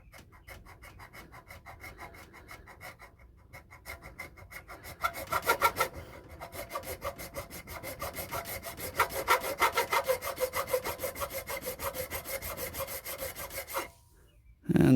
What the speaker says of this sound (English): Putting a notch in there.